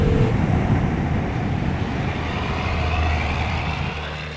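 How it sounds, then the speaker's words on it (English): A loud truck drives past nearby, a heavy, steady engine rumble and road roar that fades gradually as it moves away, with no talk over it. "That was a perfect time for that really loud truck to go by."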